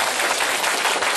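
Children and adults at a weekend science-demonstration session clap in a brief, dense, even burst of applause with no one talking over it.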